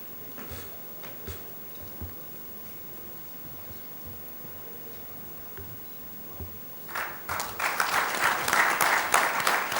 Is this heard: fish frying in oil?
no